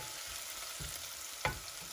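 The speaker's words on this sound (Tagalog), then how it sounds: "Sautéed lang na natin ang onions." Onions sauté in a pan for squash, long bean and eggplant stir-fry. A soft, steady sizzle runs throughout, broken by a couple of scraping stirs, one sharper clack near the middle, and no talking.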